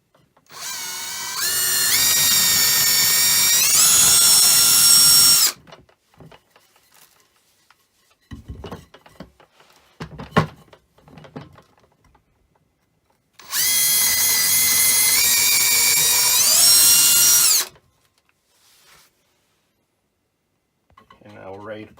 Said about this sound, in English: I want to drill a pilot hole